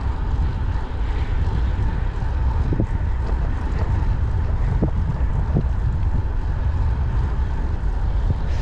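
Steady, loud wind roar buffeting a microphone while cycling on a new bike lane into a light headwind, constant rumbling gusts with faint scattered clicks and no talk.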